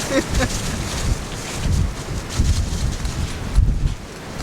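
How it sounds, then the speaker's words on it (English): Strong wind buffets the microphone in the Kalahari desert, a loud rumbling roar with gusts swelling and fading, and brief rustling of blown sand on top. "Go stand in the wind, take a couple of steps back."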